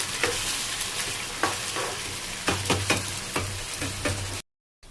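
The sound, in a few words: chicken frying and being stirred in a pan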